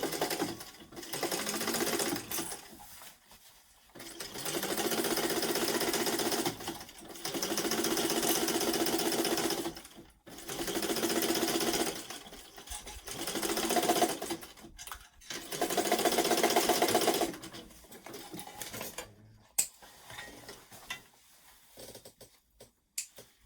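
A sewing machine stitches a seam on a weekender travel bag in several sustained bursts, each a few seconds long, with short quiet pauses between runs and a final stretch of scattered handling clicks.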